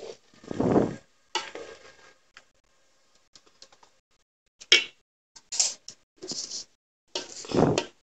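Radish and fenugreek greens are stirred in a pan in short, separate bursts of scraping and rustling, with brief sizzles and sharp utensil clicks between quiet gaps, close by.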